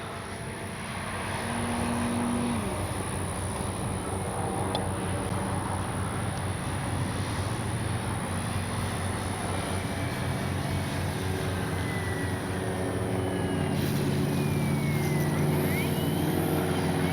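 FGFRC Avios Extra NG 300 RC airplane with upgraded landing gear flying sport aerobatics, its electric motor a steady droning whine that holds at a constant level and swells slightly toward the end, heard outdoors at moderate distance.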